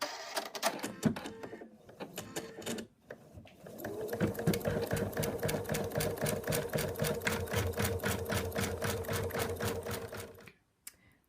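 Embroidery machine stitching a placement line for an in-the-hoop moose design, running as a steady, rapid needle rhythm for about seven seconds after a few short starts, then stopping.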